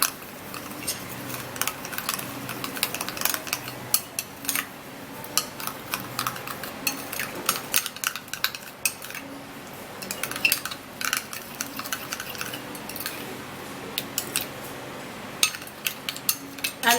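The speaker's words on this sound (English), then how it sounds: "And then you mix it all up really good." Spoon clinking and scraping against a bowl while a foamy skin-lightening mixture is stirred, a steady run of small sharp ticks and scrapes close by, with no talking.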